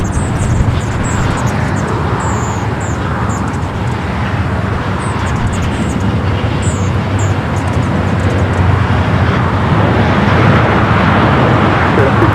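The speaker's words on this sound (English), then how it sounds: "Alright, Turkish. Flight 180. Now rolling down 25 right." A Turkish Airlines jet, flight 180, takes off on runway 25 right at LAX, its engine roar a steady broad rumble heard from a distance, with faint high chirps over it.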